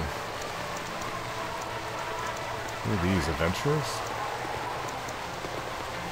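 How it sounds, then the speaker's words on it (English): Rain falls steadily on a city street at night in a video game, a constant soft hiss with a brief burst of clip-clopping hooves partway through, while a voice speaks over it. "it's a rainy night, too."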